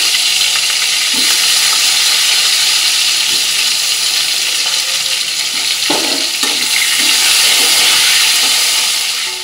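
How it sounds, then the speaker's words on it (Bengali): Potato and cauliflower pieces frying in oil in a home kitchen, a loud continuous hissing sizzle with occasional faint clinks of a utensil, no voices. "এবার ওই তেলের মধ্যে আমি আলু ফুলকপিটাকে লাল করে ভেজে নেব"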